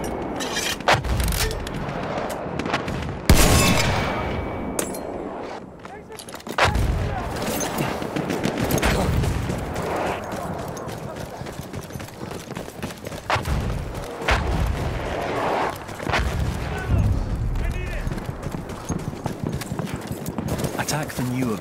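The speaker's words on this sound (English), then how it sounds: "Wait for the enemy artillery barrage." An enemy artillery barrage in a Battlefield 1 rush match: heavy booms and scattered gunfire crash repeatedly over a continuous din of battle, with hoofbeat-like clatter and a voice talking throughout.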